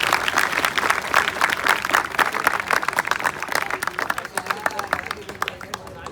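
Audience clapping at a road safety event, dense and energetic applause from a crowd, loud at first and easing slightly toward the end, with faint voices mixed in.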